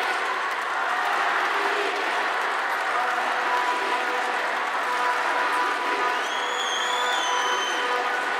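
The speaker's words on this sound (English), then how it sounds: "Russian getting a big cheer from the crowd here." A crowd at a Winter Universiade short track speed skating race cheers in a sustained, distant roar for a Russian skater before the women's 1000m start, under a commentator's voice.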